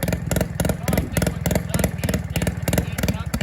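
A Lotus 72 Formula 1 replica race car fitted with a golf cart motor idles loudly nearby, a fast, evenly pulsing clatter that chugs steadily throughout.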